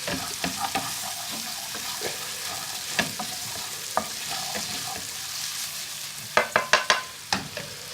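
Mushrooms fry in rapeseed oil in a pan for a vegetable vindaloo, giving a steady broadband sizzle broken by scattered spatula clicks and scrapes, with a denser burst of sharp stirring knocks near the end.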